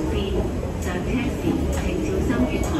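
A train pulls into a station, a low rumble with squeaks and clatter under the voices of people talking nearby.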